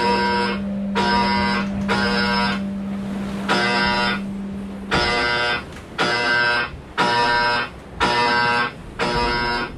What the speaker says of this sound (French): Aïe, il y a une alarme.